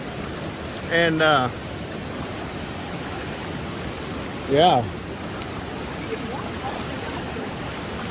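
A stream flowing near a waterfall in Tennessee, a steady broadband rush of water filling the whole scene while someone speaks briefly twice over it.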